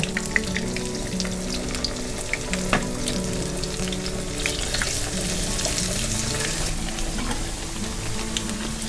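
Thai pork sausage (moo yor) fries in hot oil, giving a dense, continuous close-up sizzle and crackle with occasional light clicks of turning, steady throughout and free of speech.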